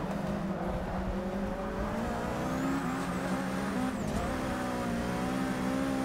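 A race car engine drones steadily with gear-linked pitch rises and falls in Forza Motorsport 6 during a night race, with a brief tire squeal partway through, continuous and loud.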